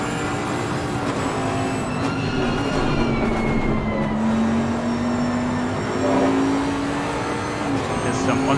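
Onboard race car engine at Imola during a four-hour sim racing endurance event, a steady loud drone with a rising and falling pitch sweep, continuous throughout with a faint voice underneath.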